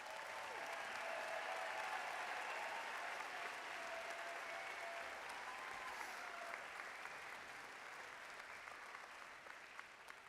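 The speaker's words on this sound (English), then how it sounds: "Let's give them another round of applause." Sustained applause from a large audience for graduates at a fall commencement ceremony, a steady wash of clapping that stays even and fairly distant for about ten seconds before easing slightly.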